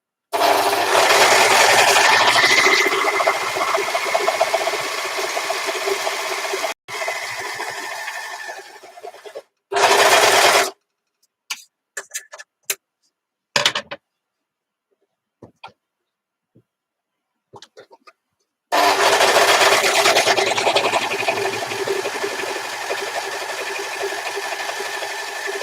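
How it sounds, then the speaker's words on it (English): An overlocker sewing machine runs in long loud buzzing stretches, stops for a while with scattered clicks and short bursts, then starts up again, close up, with no talking. "So this machine here is what is called an overlocker"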